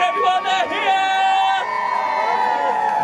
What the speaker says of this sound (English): Give a big cheer, everyone, they're here!